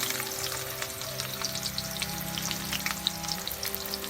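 Chopped onions fry in hot soybean oil and are stirred, making a continuous close crackling sizzle with scattered sharp pops throughout.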